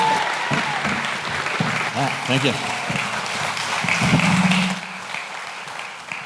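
A conference audience claps loudly and steadily for a speaker, filling the whole stretch, while a voice talks briefly under the clapping as it begins to fade.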